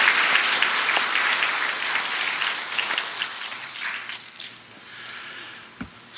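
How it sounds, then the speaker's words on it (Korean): Applause from an audience at a Catholic gathering in Suwon, a dense wash of clapping that runs steadily for several seconds, thinning toward the end. "감사의 박수 드립니다"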